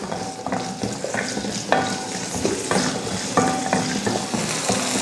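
Shallots and garlic sauté in hot oil in a kadai, sizzling steadily up close while a spoon stirs with repeated scraping strokes against the pan.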